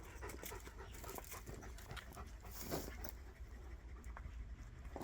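A Presa Canario dog pants heavily in the heat, a quick rhythmic run of close breaths with a few faint whimpers and no talking.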